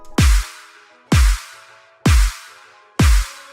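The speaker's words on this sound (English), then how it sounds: "So then I added these big claps" Big layered clap samples in an electronic build-up: four loud, wide, splashy claps with a short low thump under each, struck at a slow steady pace with ringing tails between hits.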